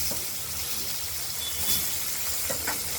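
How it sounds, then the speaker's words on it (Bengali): Potatoes frying in oil in a pan for a spicy katla fish curry, giving a steady close sizzling hiss throughout with a few faint clicks and no voices. "প্রথমে আলুগুলোকে ভাজা করে নেবো, তারপর দেবো টমেটো কুচি।"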